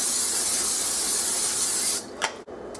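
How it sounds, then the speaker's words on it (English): A steady cooking spray hisses close by onto a skillet for about two seconds, then stops, followed by a couple of brief clicks and a soft clatter. "spray the skillet."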